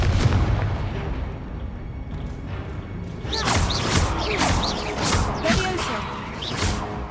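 Confringo fire spell blasts go off in Hogwarts Legacy, loud booming explosions with whooshes and crashes, several bursts in quick succession after a calmer start.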